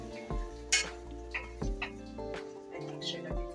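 Food cooking in oil in a pot being stirred: a spoon scrapes and knocks against the pot in a few clanks over a faint sizzle, with a voice talking over it.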